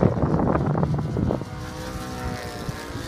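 A Hangar 9 P-47 RC model plane with a Saito FG-40 gas engine drones past at low throttle during break-in, a loud close buzzing that drops to a steadier, fainter hum as it moves away.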